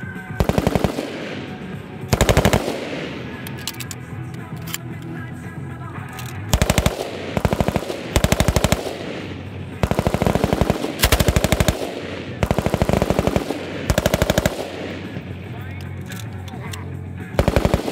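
A SAW light machine gun fires repeated loud bursts of rapid shots, each a second or so long, separated by short gaps with some background noise, close and dominant throughout.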